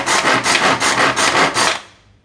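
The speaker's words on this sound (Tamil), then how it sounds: "சின்ன சாப்பர்னால லைட்டாக ரஃப்பாக வந்து கட் பண்ணி உள்ளே போட்டுடணும்." A small food chopper rapidly chops onion for ghee rice, making about six quick rasping bursts in a steady rhythm before the noise trails off, close and loud with no talking.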